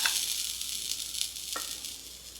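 Grated coconut roasting in a pan over a low flame, a steady soft hiss and crackle of sizzling with a couple of brief scraping stirs, close and alone.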